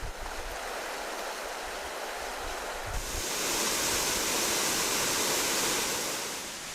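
Well-known waterfall in the Algoma region, a steady broadband rush of falling water that swells louder and brighter midway through and holds there, with no voices.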